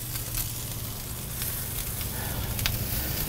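A ribeye steak basted with seasoned butter sizzles on the hot section of a grill at a steak competition, a close, steady hiss and crackle with a few sharper pops.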